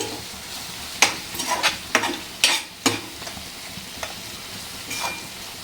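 Spices being stirred in a hot pan while cooking a paneer dish, heard as a series of sharp scraping and sizzling bursts about a second apart over a low background hiss, no talk.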